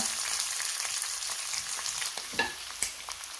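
Onion, coconut pieces, ginger and crushed garlic sauté in a hot pan for a Kerala toddy-shop chicken curry, giving a steady close sizzle broken by a few scraping stirs.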